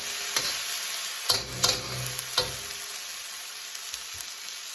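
Vegan Mongolian beef sizzles steadily in a hot pan, partly charred with the heat turned down, with a continuous frying hiss broken by a few stirring scrapes and clatters.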